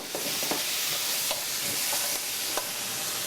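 Steady hiss of onion sizzling in a hot pan with dressing, with occasional soft scrapes of stirring over the constant frying noise.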